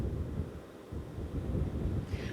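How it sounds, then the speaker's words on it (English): Strong wind gusts buffet the microphone on the Bay of Fundy coast at St. Martin's, New Brunswick, as a post-tropical storm passes, giving a loud, low, continuous roar that rises and falls with no voices. "It's been quite windy here with some really strong wind gusts."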